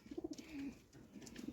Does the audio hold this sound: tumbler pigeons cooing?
yes